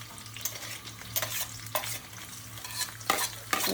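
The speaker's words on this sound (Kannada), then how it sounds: "ಸೊ ವೈಟ್ ಆನಿಯನ್ ಹಾಕ್ತಾಯಿದ್ದೀನಿ." White onion frying in hot oil, a steady sizzle broken by repeated scraping stirs of a spoon in the pan, close and fairly quiet.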